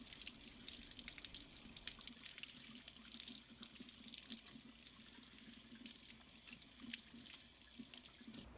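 Cold tap water running steadily into a sink to rinse spices off salmon, a constant soft hiss and splash with small drips, faint and close, no voices.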